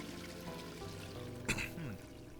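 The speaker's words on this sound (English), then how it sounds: "That one can flush." A toilet flushes in the video game The Darkside Detective: a short burst of pouring, gurgling water rises suddenly over a quiet background hum and drains away within about half a second.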